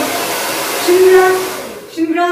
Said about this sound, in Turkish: Şimdi biraz kurutacağım. Ondan sonra föne geçeceğim.